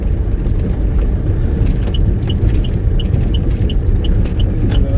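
Heavy trucks rumble along a badly damaged, potholed road, a steady loud low engine and tyre roar filling the whole stretch with faint periodic ticking above it.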